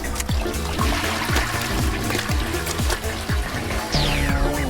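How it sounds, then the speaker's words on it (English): Toilet flushing in a cartoonish video game, water gurgling and rushing loudly and steadily with a series of rhythmic downward-sweeping glugs and a rising swirl near the end. "You could at least remember to flush."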